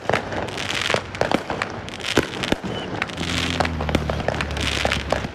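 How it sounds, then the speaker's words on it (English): Amateur fireworks set off by crowds of city residents, a rapid, irregular barrage of sharp cracks and booms over a constant crackling rumble, some bursts near and loud, others distant, with a low engine-like hum joining midway. "This is literally citizens of the city all getting fireworks, meeting in one place and just blowing stuff up for hours."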